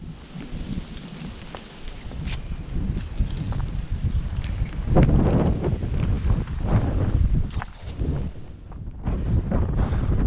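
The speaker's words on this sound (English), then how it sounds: "we've picked a windy day for the walk, so I apologise if there's any wind noise in the microphone" Steady low rumbling wind buffeting the microphone during an outdoor walk, loud and continuous with gusty surges, no voices.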